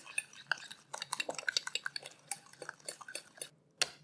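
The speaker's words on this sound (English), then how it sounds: "Give everything a mix." A spoon or whisk clinks and scrapes against a bowl while frangipane tart filling is stirred, in a quick irregular rhythm with a short pause near the end.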